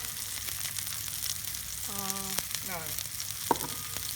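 Onion and cauliflower fry in a pan with a steady sizzle, while a couple of brief tonal squeaks and a short clink sound partway through.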